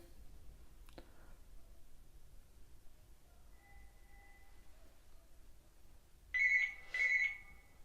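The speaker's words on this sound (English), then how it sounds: "There's the phone." A telephone ringing at a building site, two short loud electronic rings near the end after a mostly quiet stretch with faint tones and a click.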